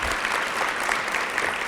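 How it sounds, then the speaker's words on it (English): An audience at a large convention hall applauds a speaker, a brief, dense, even roar of many hands clapping at once, steady and moderately loud without pause. "You really have to give Shireen another round of applause."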